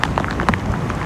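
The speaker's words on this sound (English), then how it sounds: "We've been dealing with rain, better half of the day" Steady rain pours during Tropical Storm Cristobal in Hammond, Louisiana, a dense, continuous patter of drops striking surfaces close by, loud and unbroken with no voices.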